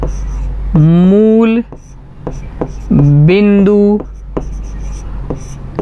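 A pen or chalk scratches across a board as a maths problem is worked out, with short strokes under a man's close, clear speech.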